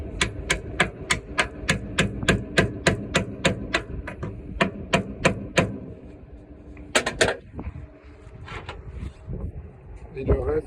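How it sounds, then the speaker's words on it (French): A hammer strikes the coupling of a dump trailer in a fast, even series of sharp metallic blows up close, then a few scattered knocks and clanks follow as a voice speaks. "on finit de le serrer au marteau."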